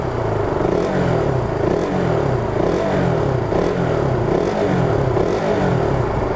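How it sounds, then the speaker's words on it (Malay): A KTM RC200 motorcycle engine revving at a standstill, loud and close, with a continuous rising and falling buzzing roar and mechanical clatter, no talking over it. "Okay, lupa nak tunjuk korang rev dia."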